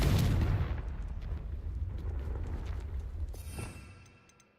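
A single Confringo fire spell blast in the Hogwarts Legacy video game booms out as a sharp, forceful burst that rolls into a rumbling tail and gradually fades away, with no speech.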